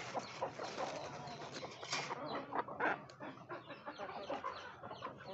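A hill chicken clucking on a farm, soft, busy clucks and low fowl calls close by, continuous and fairly quiet.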